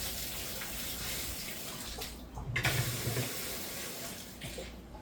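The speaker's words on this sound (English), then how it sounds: "I'm gonna wash my hands." Steady tap water streams into a kitchen sink while hands are washed, a continuous close hiss that swells briefly in the middle, with no talking.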